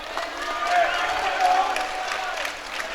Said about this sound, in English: And hearing some applause there by the crowd.